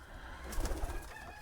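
Pigeons coo softly, a couple of low throaty calls in quick succession over faint background noise.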